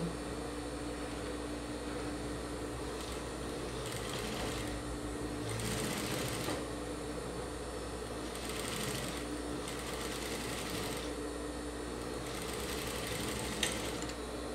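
A sewing machine stitching a simple fabric face mask, a steady near whir with a few short bursts of faster running and no talking.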